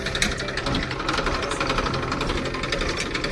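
A motorcycle engine runs close by with a loud, rough, rapid knocking chug that holds steady throughout and has no talk over it.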